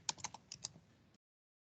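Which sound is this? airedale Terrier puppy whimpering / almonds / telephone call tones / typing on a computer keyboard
typing on a computer keyboard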